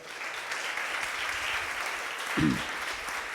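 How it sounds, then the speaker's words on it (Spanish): Congregation in a church clapping steadily for several seconds, a broad even wash of handclaps at moderate distance with a brief low thump near the end. "Denle un aplauso al Señor,"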